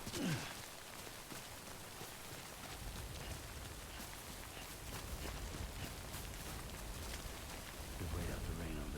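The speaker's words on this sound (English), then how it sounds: "We wait out the rain over there." Steady rain falls in the video game Death Stranding, a dense, even hiss of drops that continues without a break for the whole stretch, with brief louder rustles near the start and end.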